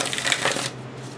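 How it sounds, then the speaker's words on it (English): A quick riffling flutter of a tarot card deck being shuffled close up, a dense burst of card flicks lasting under a second before stopping. "I'll like purposely reverse half the deck when I shuffle"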